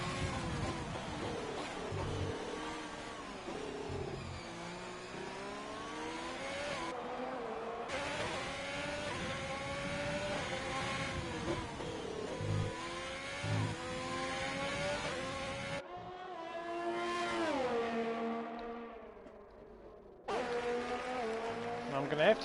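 A racing car engine screams through a flying lap in a Formula-style racing game set at the Canadian GP. Revs climb and drop in repeated gear-change sweeps, with brief cuts in the sound. A commentator talks over it.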